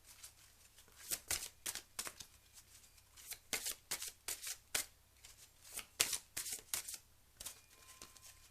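Oracle cards being shuffled by hand in bursts of crisp riffling and sliding, close and fairly quiet, with short pauses between passes and no talking.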